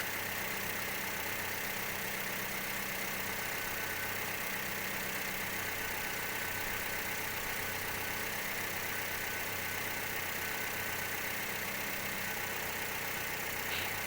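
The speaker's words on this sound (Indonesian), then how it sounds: "suara mesin terdengar makin halus ya" A Toyota Vios engine idles while warming up, a steady, continuous low rumble with broad mechanical noise that holds unchanged throughout, recorded close and without talk.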